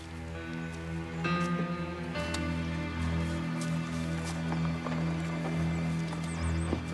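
A lame horse's hooves clip-clop in a steady rhythm on a hard surface, moderately loud and unhurried, with no voices.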